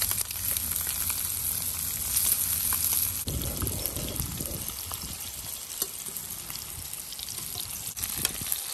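Seasoned fish frying in one or two spoons of oil, a steady close sizzle that grows denser and louder partway through, with light clicks of stirring and no voices.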